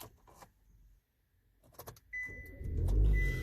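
A 2015 Kia Optima is started with the key: a quiet click and brief rattle, then the starter cranks and the engine catches and settles into a steady, close idle.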